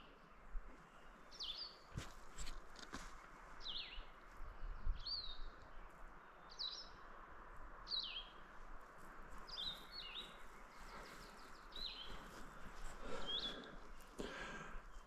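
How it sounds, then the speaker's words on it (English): Birds sing in a forest along the Black Forest Trail in Pennsylvania, repeated short bright chirps and whistles spaced every second or so, faint and distant over a soft rustling background. "Listen to those birds."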